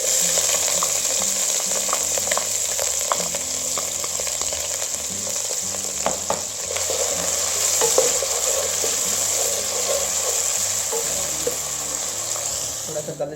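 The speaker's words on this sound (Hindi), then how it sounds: "अब इसमें हम चॉप प्याज से ऐड करने लगे हैं" Chopped onions fry in hot ghee in a pan, a steady close sizzle with stirring clatter and scraping throughout, no talk.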